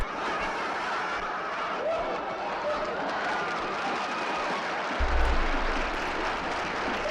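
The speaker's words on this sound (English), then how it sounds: "give him his goddamn round of applause" A room gives a round of applause with snickers and chuckles mixed in; steady, full clapping runs throughout at an even level, with a low rumble entering near the end.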